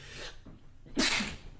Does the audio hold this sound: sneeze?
yes